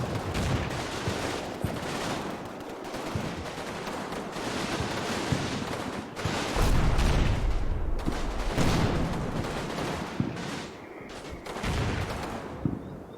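Heavy machine guns and mixed small arms fire in a wartime strategy game, a continuous rattle of bursts with dull, booming impacts. Loud and sustained, with no speech over it.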